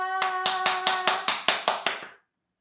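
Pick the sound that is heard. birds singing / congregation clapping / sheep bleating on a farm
congregation clapping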